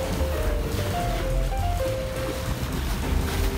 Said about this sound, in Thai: ฟังเสียงคลื่น